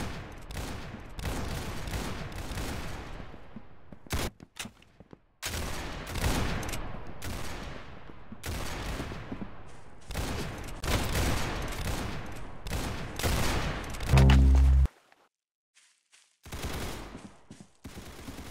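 Rapid gunfire rings out in long bursts of sharp shots, loud and close, broken by brief pauses, with a final heavy boom and then near silence.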